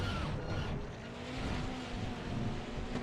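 Race car on track at Laguna Seca heard onboard under braking, a steady loud engine drone with falling revs and a faint tire squeal, no talk.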